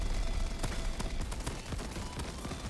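Giant auto-tracking bullets fire in the video game Crab Champions, a rapid volley of sharp, loud shots repeating close together with no talking.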